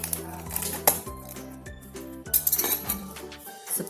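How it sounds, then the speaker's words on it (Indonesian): An aluminium pot lid clinks and clatters while handled among sorted household waste, with several close metallic knocks and rattles in an irregular rhythm and short pauses between them. "Ini tutup panci aluminium."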